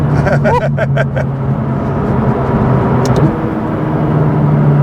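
A McLaren 570S with a touch of turbo lag accelerating hard at full throttle, heard from inside the cabin as a loud, steady roar of engine and road noise that holds throughout.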